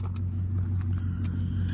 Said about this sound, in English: Car sounds so freaking crazy